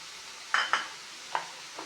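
Sambar powder stirred into sizzling cucumber curry in a pan: a few distinct close scrapes of a spoon against the pan over a faint sizzle, with pauses between strokes.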